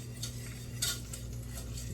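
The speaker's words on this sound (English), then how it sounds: "just use our whisk here to stir that" A whisk stirs brown rice through hot oil in a pan with quick, faint metallic scrapes and clinks over a soft sizzle, with no talking.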